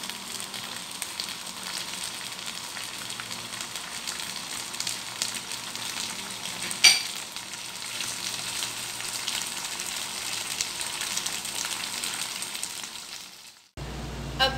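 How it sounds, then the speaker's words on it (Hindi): Butter sizzling and frying in a chicken karahi pan, a steady close crackle with one brief louder pop midway, cutting off sharply near the end. "अब हम इसमें बटर डाल देते हैं।"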